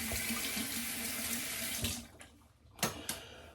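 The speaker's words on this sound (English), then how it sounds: "So now I'm gonna rinse off with cool water" Cool tap water runs steadily into a sink for about two seconds as a shaver rinses off after a shave, then cuts off, followed by a couple of brief splashes and drips.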